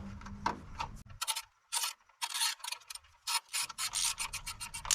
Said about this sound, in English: we are going to reinstall the same bolt